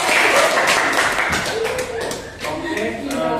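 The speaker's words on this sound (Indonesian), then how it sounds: "Tepuk tangan aja teman-teman." Classmates clap for each other after a classroom game, a loud burst of scattered, uneven hand claps with chatter and voices running through it.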